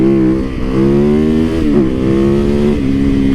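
A motorcycle engine drones loud and close with a strong, buzzing, harmonic tone, its pitch dipping and climbing again a couple of times as the throttle is worked, with no pause in the sound.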